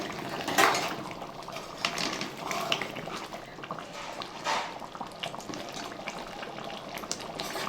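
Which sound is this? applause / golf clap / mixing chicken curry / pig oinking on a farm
mixing chicken curry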